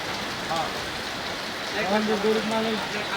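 Heavy rain pours in Mirpur, Dhaka, a dense steady hiss of falling water with voices talking over it.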